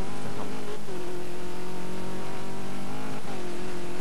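A rally car engine in the racing game Colin McRae: Dirt 2 at an X-Games America event drones steadily at mid pitch, with brief revving swells and dips as the car drives, and no talk over it.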